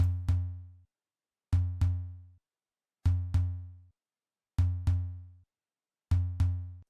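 Roland 808 drum machine tom sample, a deep booming hit struck as quick doubles, five pairs repeating evenly with short silent gaps, clean and alone.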